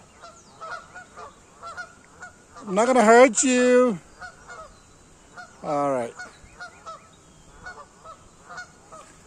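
Geese honk in two loud bursts at a neighborhood lake in Missouri, a long noisy cluster followed by a shorter call, with someone speaking softly in between and quiet background chatter.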